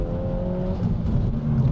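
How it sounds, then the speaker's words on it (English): A Renault Megane R.S. 280 engine accelerates, a steady close-up rising drone with harmonic whir and growl, loud and continuous without talk. "This does have an inspiring engine note, and you want to hear it all of the time."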